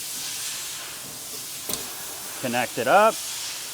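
Steady compressed-air hiss from a Sure-Fil air regulator hooked to an airline, a continuous broadband rush running throughout, with a brief knock and then a voice speaking over the end.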